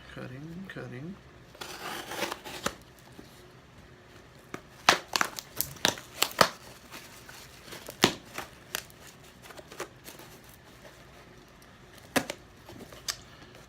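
Unboxing a guitar effects pedal: scattered crinkling and rustling as a package is cut open and packing popcorn is handled, with sharp irregular clicks and scrapes at low level.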